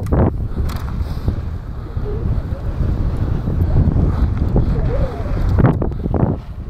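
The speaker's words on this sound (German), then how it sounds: "Richtig windig heute." Strong wind buffets the microphone on a mountain bike trail at Winterberg bike park, with heavy, gusting low rumbles that swell and fade throughout.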